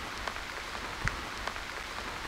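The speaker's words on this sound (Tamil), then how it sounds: "மழை கண்ணா பின்னான்னு பேஞ்சிக்கிட்டு இருக்குது." Heavy rain pours steadily at a hill-country spot near Valparai, a soft, continuous hiss of drops falling on surfaces with occasional louder splats, heard alone with no voices.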